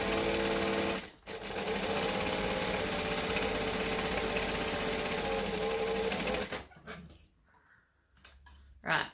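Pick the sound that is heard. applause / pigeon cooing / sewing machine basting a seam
sewing machine basting a seam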